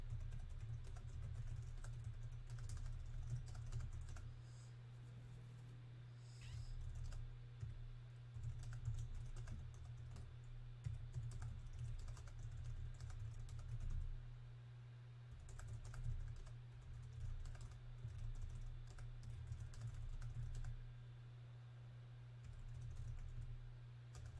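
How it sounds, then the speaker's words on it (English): Steady typing on a computer keyboard, with quick irregular clicks and clatter continuing throughout over a constant low hum, close by and with no voices. "I know this isn't exciting because I'm typing right now"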